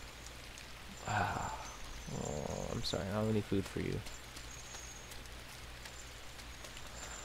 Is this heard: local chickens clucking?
no